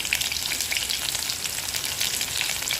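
Onion going into hot oil with crackled mustard seeds and cumin for Gujarati vaghareli khichdi, a dense, even, close sizzle with fine popping crackles throughout, loud and steady with no voices.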